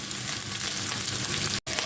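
Chicken liver sizzles steadily in a hot pan, a loud continuous frying hiss with light crackle, briefly cut off near the end before resuming.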